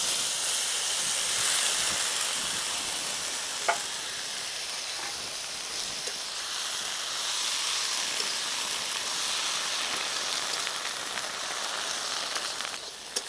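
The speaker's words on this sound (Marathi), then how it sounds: "तेल गरम झालंय आपण एक चमच्यावर मोहरी टाकून घेऊ मोहरी चांगली तडतडली" Mustard seeds and turmeric sizzling in hot oil for a vegetable dish, a steady loud hiss of frying with occasional sharp crackles and pops from the seeds, with no talking.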